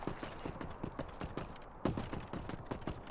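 A horse's hooves clip-clop in a quick, steady trot in the Lord of the Rings Online video game, a soft, even run of hoofbeats at moderate distance.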